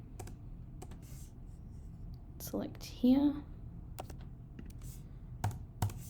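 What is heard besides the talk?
typing and clicking on a computer keyboard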